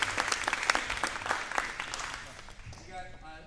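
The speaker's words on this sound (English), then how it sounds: "Give him a round of applause." A middle school jazz band concert audience applauds a tenor saxophone soloist, with a burst of clapping that fades over a few seconds and a voice heard near the end.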